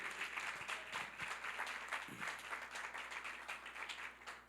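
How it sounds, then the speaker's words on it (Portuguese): A church congregation claps together in sustained applause during a Christian evangelism class, a dense, steady patter of many hands filling the room for several seconds. "Você pode aplaudir ao Senhor pela vida de todos?"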